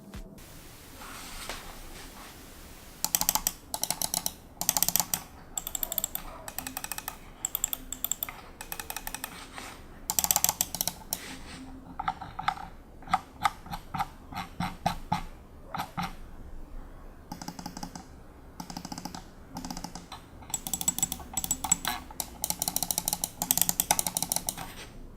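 Logitech G203 Prodigy gaming mouse buttons clicking close up, light crisp clicks in quick irregular bursts broken by brief pauses.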